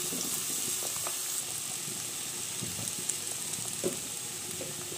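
Eggplant pieces frying in a pan alongside potato and pumpkin, giving a steady close sizzle with soft scattered pops and faint stirring, no voices.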